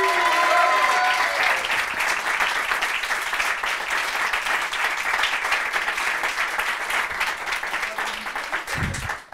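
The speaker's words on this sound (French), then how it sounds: "Je vous demande d'applaudir notre gagnante de ce soir" A live audience applauds the evening's winner, Isabelle Arnaud, with dense, sustained clapping that stays loud and steady for about nine seconds before cutting off abruptly.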